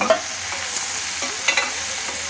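Steady sizzling of tomatoes sautéing in a pan for ginger-tomato chutney, with a few soft stirring scrapes and clicks, close and continuous.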